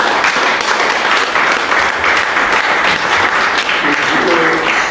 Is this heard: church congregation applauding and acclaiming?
yes